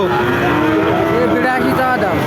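A young bull calf, about four to five months old, lows at a cattle market with a loud, drawn-out, close moo that wavers in pitch, over a noisy background.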